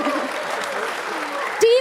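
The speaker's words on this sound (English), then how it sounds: "Please give a bigger round of applause." Applause from an audience at a sustainability challenge finale award ceremony in Munich, steady clapping through the whole stretch with voices mixed in and a brief louder burst near the end.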